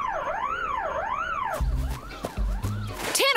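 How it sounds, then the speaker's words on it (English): A wailing security alarm from a Fortnite animation sweeps up and down in steady rising-and-falling cycles, loud and close, joined midway by heavier thumping and clattering noises. "You're setting off all the alarms."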